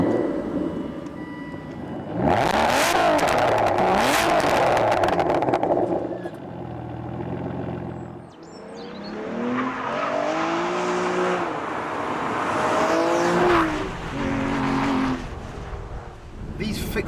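An Aston Martin DBS being driven, its engine note rising and falling through several gear changes while passing noise swells and fades around it.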